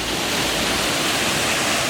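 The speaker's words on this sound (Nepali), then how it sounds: "फाइनली एउटा सानो झरना हो नि देखियो यार" A small waterfall at Simba Falls in Lalitpur roars in a steady, close wash of falling water, dense and continuous with no voices over it.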